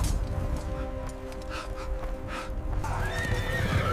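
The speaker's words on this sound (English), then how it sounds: "He mounted his white war horse." A white war horse whinnies loudly and close over a steady clatter of hooves, with the neigh rising into a long shrill call near the end.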